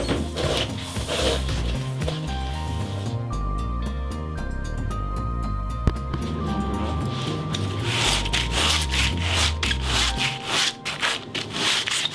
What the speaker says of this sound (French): Ensuite découper l'outline, qui est la ligne extérieure de la planche, afin de lui donner sa préforme